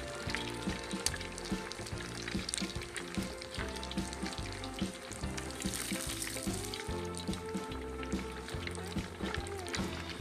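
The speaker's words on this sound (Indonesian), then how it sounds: "kita goreng" Oil sizzles steadily as meatballs deep-fry, a dense crackling hiss with faint clinks of utensils, close and continuous throughout.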